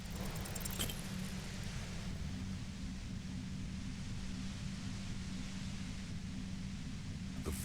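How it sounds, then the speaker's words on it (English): Steady, overwhelming broadband hiss from a compressor in Disco Elysium, with a low hum beneath it, continuous and unchanging throughout. "The violet white noise becomes even more overwhelming closer to the compressor."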